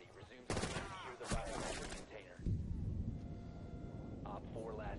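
Bursts of gunfire in Rainbow Six Siege, two sharp volleys in quick succession followed by quieter shots and game noise, with people talking over it.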